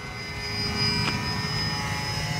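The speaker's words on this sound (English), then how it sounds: "The airplane flies very docile and gentle, as you would expect a Cessna 310 look-alike airplane." A Dynam Cessna 310 Grand Cruiser RC model airplane flies past at about half throttle, its steady electric motor drone moderately distant with a brief swell midway.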